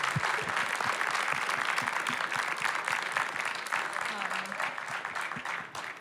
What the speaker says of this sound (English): I think we should give you a warm applause.